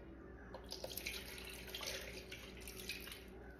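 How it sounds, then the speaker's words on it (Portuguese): Milk is poured into a homemade bread dough mixture, heard as a steady, faint watery trickle and splash that runs throughout at close range. "Ela já pôs o leite."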